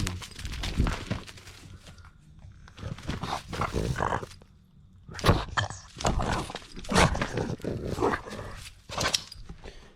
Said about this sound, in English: that's got shop dog Azzy here